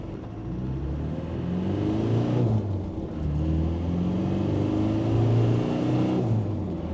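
A Land Rover Defender 300 Tdi with a fuel pump tune accelerating on the road, heard from inside as a steady diesel drone rising through two gear pulls with a brief dip between them, with no talking.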